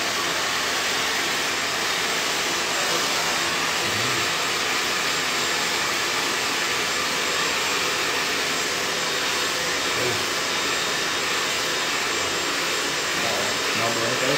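Hair dryer blowing steadily on hair while silver grey toner is dried, a loud, continuous whooshing roar close to the microphone with only slight shifts in airflow.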